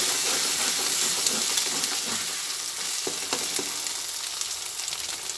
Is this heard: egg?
yes